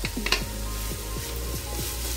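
Carrots and minced meat stirred in a frying pan: a steady close sizzle with a spoon scraping the pan in a regular rhythm, about six sweeps, with no talk.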